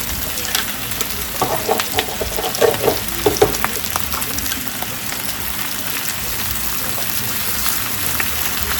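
Meat fries in a pan with a steady close sizzle and crackle, and occasional scraping stirs of the meat.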